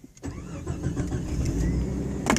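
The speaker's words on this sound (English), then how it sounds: "all I gotta do is turn it to where you normally start the car, and then push the button" A 1993 Jeep Cherokee with a no-crank fault is started with a push-button starter, giving a brief click, a churning crank and the engine catching into a loud, close rumbling run.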